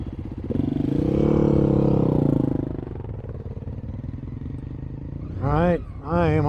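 Honda Africa Twin 2017 motorcycle engine droning steadily while riding, swelling then easing off, with a voice talking briefly near the end.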